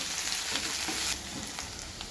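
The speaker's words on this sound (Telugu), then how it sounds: "పుదీనా కొత్తిమీర కరివేపాకు వేసుకోవాలి ఎర్రగా వేంపుకోవాలి" Mint, coriander and curry leaves frying in hot oil with green chilli pieces, a steady close sizzle with light crackles and no talk.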